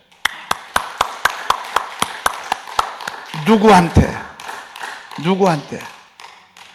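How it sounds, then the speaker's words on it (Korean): Church congregation at an early-morning Korean service claps along in a steady rhythm of sharp, evenly spaced claps for about three seconds, then people talk and laugh. "우리 박수 한번 보내십시다."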